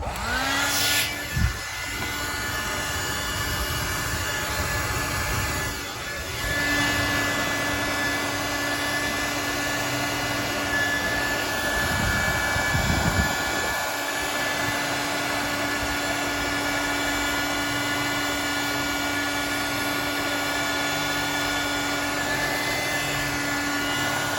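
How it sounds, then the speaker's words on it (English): A steady, loud electric blowing whir runs throughout, like a hair dryer held close, with brief dips and clicks. "Hair dryer."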